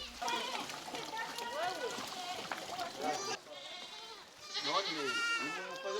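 Goats bleat repeatedly in a Burundi village, several wavering calls close by, some overlapping, with a short quieter gap between bursts.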